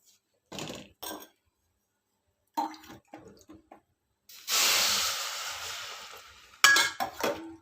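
Oats being lightly dry-roasted in a pan give a few short scraping stirs, then a loud hissing sizzle that swells and fades, followed by more brief clatters of a utensil against the pan.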